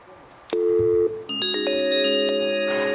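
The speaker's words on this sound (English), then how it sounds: "And we have Mr. Paul McDonald on the phone who opposes this bill" Telephone line tones sound as a caller joins a hearing by phone: a short beep, then steady layered tones that hold loud and clear, with no voices heard.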